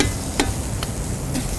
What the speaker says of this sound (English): A little bit of sizzle there.